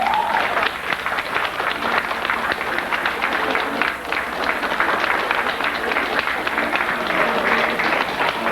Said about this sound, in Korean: 즐겁게 박수를 해주시기 바랍니다.